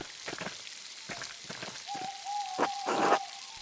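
Rain falls at night in the video game Pentiment, a quiet, steady patter broken by soft splashy bursts, with a thin tonal hoot running faintly through the later part.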